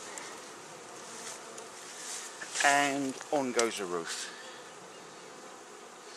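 A steady insect buzz hums throughout, like bees swarming near a skep hive, while a voice speaks briefly over it partway through.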